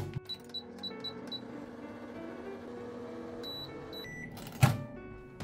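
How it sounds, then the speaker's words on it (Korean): A microwave oven heating instant basil cream Buldak udon for two and a half minutes: a steady low hum with short beeps at the start and a louder clunk and beeps near the end, with no talking. "전자레인지에 2분 30초를 돌려줍니다."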